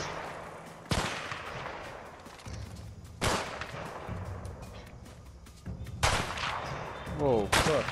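Sniper rifle shots ring out in the video game A Way Out: four loud, sharp reports spaced a few seconds apart, each with a trailing echo, over tense background game sound.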